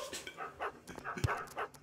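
Dogs in the Wii dog football video game pant and whimper in short repeated bursts, coming faintly through the game audio with no clear talk.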